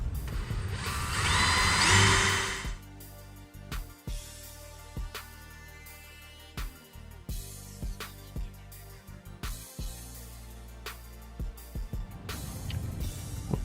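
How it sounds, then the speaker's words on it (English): A power drill bores mounting holes for fog light connectors on a 2007-2014 Cadillac Escalade, a short whirring burst followed by intermittent clicks, scrapes and handling noises close by. "Now I'm drilling for the mounts for the connectors."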